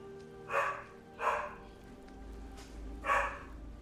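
A dog barks in the video game Skyrim, four short, sharp barks spaced roughly evenly and heard fairly close over a quiet background.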